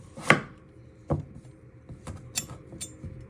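A knife cuts through a piece of butternut squash on a board, giving about five firm, separate chops and thuds at an uneven pace, close up, with no talking.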